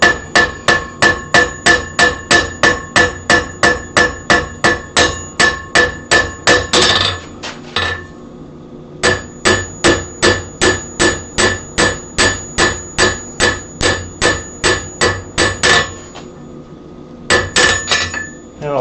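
A small cross peen hammer strikes a forged leaf in steady, rapid bursts of ringing metallic blows, loud and close, with short pauses between runs and a brief final flurry.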